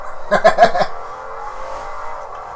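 A short burst of rapid engine revs from a Mercedes-AMG GT V12 in a video game, then a steady droning engine note that holds on, loud and close.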